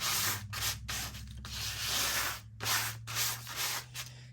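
Coarse sandpaper scrubs back and forth across a sheet of junk mail paper in steady, close, fairly loud strokes with brief pauses between passes, no voices present.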